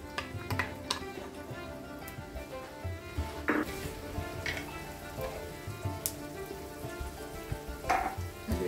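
Sweet pepper hits a sofrito in the pan for gardener rice, a soft, close sizzle with scattered pops and light stirring knocks, fairly quiet, no talking.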